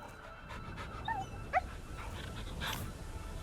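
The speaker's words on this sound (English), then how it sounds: "I can pet the dog!" A dog in the video game Wuthering Waves whimpers softly while being petted, giving a few faint high whines and yips over a quiet game background.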